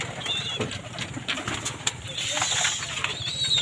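Pigeons coo and flutter close by, with a brief burst of wing flapping as a visiting pigeon is released from a loft, amid steady outdoor noise and scattered bird calls.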